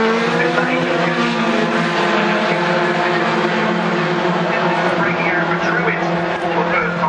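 Racing trucks on the Brands Hatch circuit heading up toward the left-hander at Surtees, a loud, continuous multi-engine roar holding steady throughout, with a commentator talking over it.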